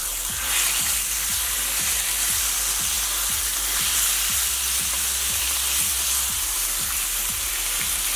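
Beef sizzles steadily in a hot pan, a loud, dense, continuous frying hiss close up, with a faint regular ticking underneath, no voices.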